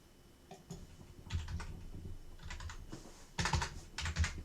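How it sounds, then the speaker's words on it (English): Someone types in irregular bursts on a computer keyboard while entering CAM machining values. The key clatter is close and moderately quiet, with short pauses between runs of keystrokes. "I keep typing something different than what I said."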